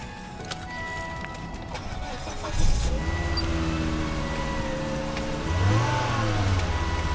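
A Volvo truck engine turns over and catches with a short burst, then idles and revs up again, rumbling nearby under faint background talk.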